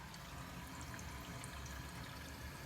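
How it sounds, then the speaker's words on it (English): Bath tap running water into a bath, a steady broadband rush of flowing, splashing water that continues unbroken and fairly close throughout, with no voices. "Let's just run the bath."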